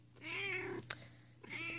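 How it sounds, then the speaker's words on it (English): A house cat meows twice in the background, two drawn-out, nearby calls separated by a short pause, with no talking. "if you hear meowing in the background, this is Rose trying to get on my lap"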